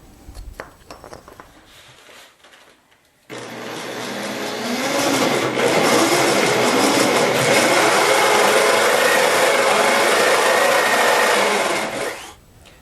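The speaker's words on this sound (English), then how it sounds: "now I know I can switch out to the 1 1/2 inch bit for the through hole and bore that through the apron" A 1 1/2 inch bit bores a through hole in a workbench apron with a continuous, loud grinding and rasping drone lasting about nine seconds, after some quiet handling noise at the start.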